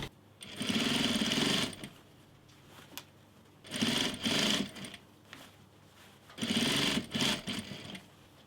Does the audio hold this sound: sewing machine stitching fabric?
yes